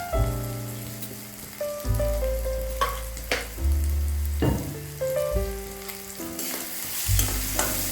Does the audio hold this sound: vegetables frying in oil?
yes